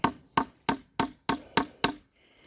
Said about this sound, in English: Nail that in there